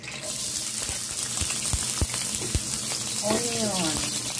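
Onion sizzling and frying in hot oil in a home kitchen, a steady crackle with sharp pops, plus a brief clatter and some running-water-like hiss, no talking.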